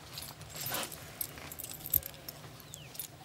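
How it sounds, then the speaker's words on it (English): Keys to a manor, big ones for a kitchen door and a small one for a burglar alarm, jangle softly with light metallic clinks over a low background hum, fairly faint and continuous. "The keys to the manor."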